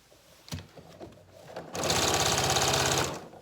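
A sewing machine stitches down a fabric scrap for a bag, a rapid mechanical chatter that starts after a few soft handling clicks and runs loud and close for over a second.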